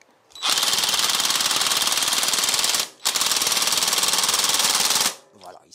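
Impact wrench tightening a bolt to 200 Newton-metres on a Kawasaki GTR1400 motorcycle, two loud close bursts of rapid hammering, each about two to three seconds long with a short pause between.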